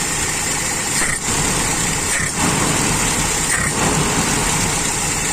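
A Toyota Kijang Grand with a 5K carburettor engine runs steadily and loud, close by, as the throttle is snapped open, with a few brief dips in the engine note and no talking.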